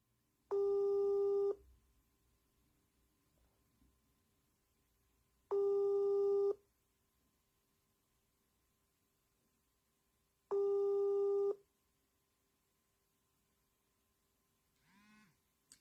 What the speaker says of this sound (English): Now, it's ringing.